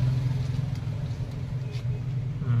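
A Bajaj 125 motorcycle engine idles steadily up close after carburetor air-fuel mixture tuning, a continuous low, even putter with slight pulsing and no revving.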